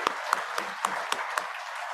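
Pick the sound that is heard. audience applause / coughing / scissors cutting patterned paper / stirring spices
audience applause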